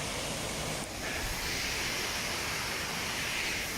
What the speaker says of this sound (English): going through the woods, there's these lovely waterfalls